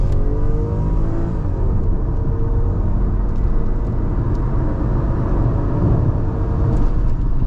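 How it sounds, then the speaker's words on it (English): A 2001 Toyota Crown Athlete V with the 1JZ-GTE turbo straight-six and VVTi pulling at full throttle on a bypass, the loud, dense engine drone and road roar steady throughout from inside the cabin, no talking. "Now to the floor."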